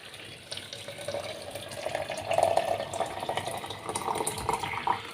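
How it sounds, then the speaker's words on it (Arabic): Hot water poured over fava beans in a pot for slow-cooked ful medames, a steady close splashing stream that swells and runs on for several seconds with no talk. "وطبعا هننزل عليه بميه سخنه اهم حاجه"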